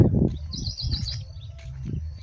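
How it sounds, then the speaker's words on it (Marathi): Birds chirp and tweet in a farm field at the edge of a forest, a few short high calls over low rustling and handling noise close by. "पक्षी पण खूप आहे यार इकडे"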